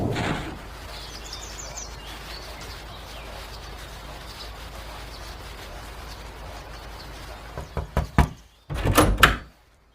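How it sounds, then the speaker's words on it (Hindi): Knocking on a wooden door at night: a few sharp raps near the end, after a long stretch of quiet room tone. "इतनी रात को दरवाजे क्यों खटखटा रहे हो?"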